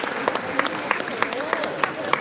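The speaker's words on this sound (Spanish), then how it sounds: "Gracias, gracias por los aplausos" Audience clapping in the Teatro Miguel Ángel Asturias comes as a rhythmic, evenly spaced series of claps at a close, moderate volume, with voices mixed in underneath.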